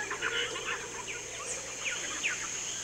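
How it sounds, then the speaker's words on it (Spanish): Birds call in the Peruvian rainforest along a jungle river, a scatter of short chirps and whistled notes at moderate distance over a constant high insect drone and low background hum, with no talk. "podemos escuchar entremezclados los gritos de los monos, trinos de pájaros y reclamos de todo tipo"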